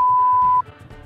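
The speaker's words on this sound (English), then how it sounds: "I'll beep the name out." A steady single-tone censor bleep masks a spoken name, holding for about half a second before cutting off, followed by faint background noise and low murmuring.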